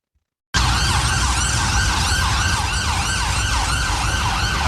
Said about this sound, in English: It was a London ambulance.